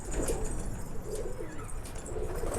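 Pigeon cooing in soft, repeated throaty phrases, fairly close and moderately quiet against light background noise, with no talking.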